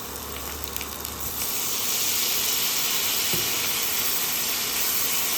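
Cauliflower and potato vegetable curry frying in a pan, with a steady, close sizzling hiss throughout and a short low rumble in the first second and a half.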